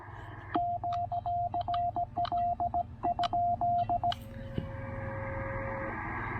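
Morse code tones sent with a paddle on a TR-45 radio during a QRP portable session: a clear single-pitched beep in rapid bursts of dots and dashes over a low hum, ending in a long steady tone.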